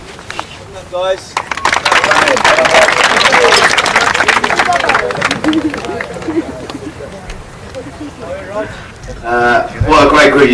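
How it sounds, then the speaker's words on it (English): A group of people clap for a squad of youth football players at a training camp, a loud burst of applause that fades into cheering and talk before a second short round. "Big round of applause, please"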